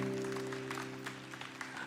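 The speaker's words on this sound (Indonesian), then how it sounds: "Berikan tepuk tangan untuk Tuhan Yesus." A church congregation in Indonesia claps for Jesus, a steady wash of hand claps running under sustained organ-like music tones, moderately distant and fairly soft.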